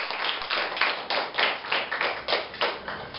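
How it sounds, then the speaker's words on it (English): An audience at a class debate applauds steadily for about three seconds, a dense patter of hand claps with a slightly rhythmic pulse and no voices. "Please give a round of applause to Samantha Luga."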